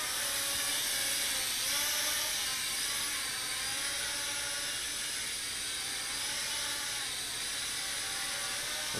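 The Holy Stone (Skytech) M61X drone hovers and flies indoors, its small propellers giving a steady high whine that rises and dips with the throttle, close and continuous with no talk.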